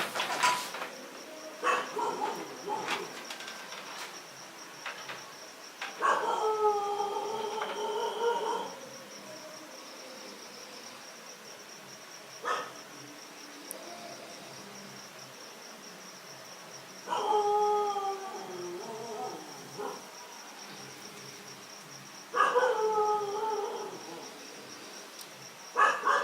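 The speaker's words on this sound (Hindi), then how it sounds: "क्या आप इस कुत्ते को चुप करा सकते हैं?" A dog howls at night in long, wavering bursts separated by pauses, with occasional sharp barks in between, fairly distant, over a constant high chirping of crickets.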